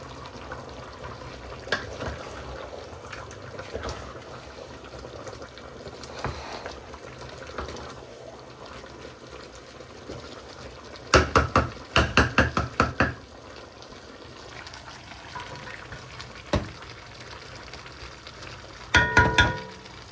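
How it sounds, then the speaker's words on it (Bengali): Meat sizzles and simmers in pots on two stovetop burners, a low steady frying hiss broken by clusters of sharp clinks and knocks from pans and lids. "রান্না বসিয়ে দিছি দুই চুলাতেই, চুলা দুইটাই অন করছি।"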